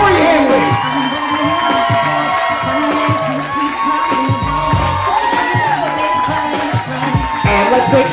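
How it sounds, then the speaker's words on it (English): Guests at a wedding reception at a private residence cheer, whoop and clap loudly over pounding dance music, the crowd noise sustained throughout. "One more big round of applause, the new Mr. and Mrs. Corey Henley."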